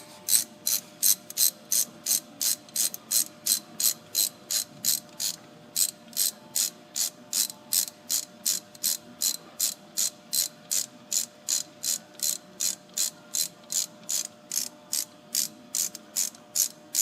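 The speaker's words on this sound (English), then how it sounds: "And then you can bust your bolt out and start screwing it in." A ratchet threading in a camshaft phaser bolt on a Ford 4.6L or 5.4L 3-valve engine, giving a steady, even run of loud, close clicks that repeats for the whole stretch with no talk.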